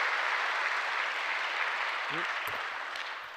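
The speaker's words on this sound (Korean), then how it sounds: "한번 박수 한번 하겠습니다." Steady applause from a church congregation during a Sunday sermon fills the whole stretch, broad and sustained, tapering slightly toward the end with a brief voice breaking through near the close.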